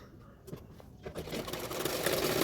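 A domestic sewing machine runs a seam around the edge of a blouse lining, its whirring motor starting faint and growing steadily louder and denser through the clip, with no talk over it.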